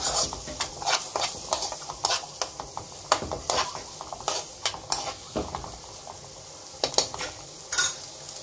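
Egg roll gravy curry frying in a pan, with a soft continuous sizzle under frequent sharp scrapes and taps of a spoon stirring against the metal, steady and close throughout.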